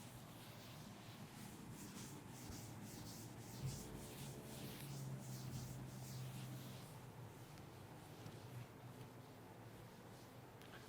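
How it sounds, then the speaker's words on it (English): Writing is wiped off a board during a chemistry lesson, a faint, continuous soft rubbing that runs through the whole stretch with no talking. "Now I'm going to rub this part and we'll discuss the next one."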